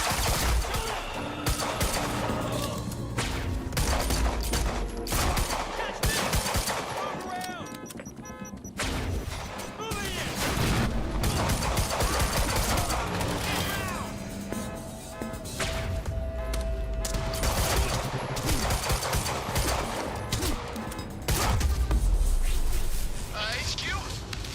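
Gunfire in the video game Quantum Break, a dense fusillade of rapid shots and crashing impacts running almost the whole time, loud and layered with game music and effects.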